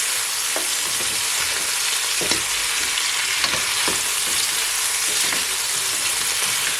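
Chicken for a Jamaican-style brown stew sizzles steadily in a hot pot as it is stirred, with soft scraping strokes recurring every second or so over constant loud frying hiss.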